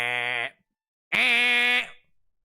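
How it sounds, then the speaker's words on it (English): Two loud, harsh buzzer blasts for a wrong answer, the first about half a second long and the second, after a short gap, lasting nearly a second, both clear and alone. "Extremely incorrect loud buzzer. Or extremely loud incorrect buzzer, rather."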